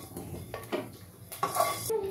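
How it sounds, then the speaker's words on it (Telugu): Dry-roasted fenugreek seeds and cumin tipped into a steel mixer jar in a home kitchen, giving a few short clinks and rattles of metal and seeds, close and fairly quiet, with no talk. "ఇప్పుడు మనం దీన్ని మిక్సీ జార్ లోకి వేసేసుకుందాము"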